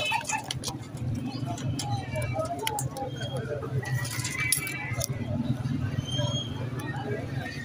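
Soft, low teddy pigeon coos repeat under a person talking at a Lahore bird market, with light metallic clinks and scattered chirps in the background.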